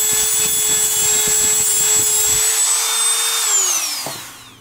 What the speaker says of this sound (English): I'm going to make some notches approximately 180 degrees from those on this same cup